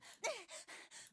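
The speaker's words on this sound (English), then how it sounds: "Doing all the heavy panting again?" A character in the Zero Escape video game pants heavily, with quick, rhythmic breaths that are close but faint.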